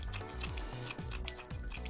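Pair of scissors snipping plant fibre for a model hedge, a quick series of close, crisp cuts and rustles at a steady rhythm with no talking.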